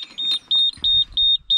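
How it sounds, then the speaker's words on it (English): Seatbelt warning on a Hitachi 19U mini digger: a steady train of shrill, evenly spaced electronic beeps, about five in quick succession, loud and close over a low engine rumble. "when you start the machine there is this quite irritating beep"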